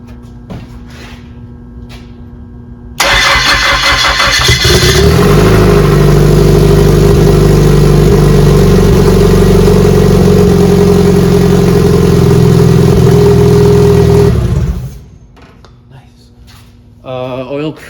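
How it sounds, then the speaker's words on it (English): Car engine cranks and catches with a rising burst, then settles into a loud, steady rumbling idle for about ten seconds before shutting off; quieter background before and after. "I'm finally going to try starting this car."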